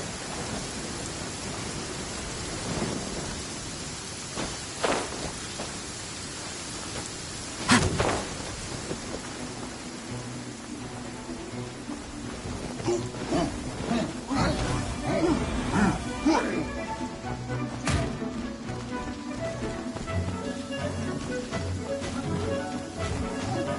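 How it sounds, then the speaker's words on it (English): A heavy rain downpour in the video game Genshin Impact hisses steadily, broken by several sharp thunder cracks and rumbles, with the rain thickening toward the end. "Taking a stroll in the middle of a downpour certainly rouses the spirit."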